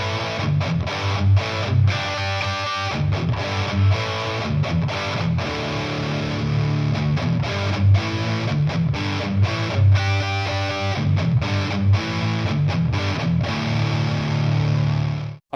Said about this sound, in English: I'll just play you the same riff on both the bridge and the neck pickup